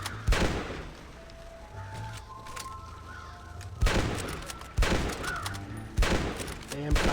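Gunfire in Red Dead Redemption on PS4: several sharp, loud shot bursts spaced a few seconds apart, with quieter ambience and faint tones in between and no clear talk.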